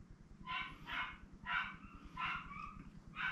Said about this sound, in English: you can hear the dogs going crazy because somebody's coming home